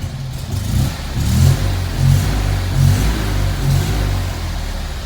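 Close, steady rumble of a Fiat 126p engine idling, with a slight rhythmic pulsing in its loudness.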